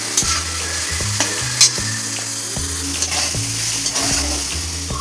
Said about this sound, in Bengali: এবার এটাকে ভালো করে ভেজে নিতে হবে।